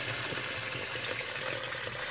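Cold tap water pours steadily into a pot while making rice pudding, a continuous close splashing rush that lasts the whole moment with no voices.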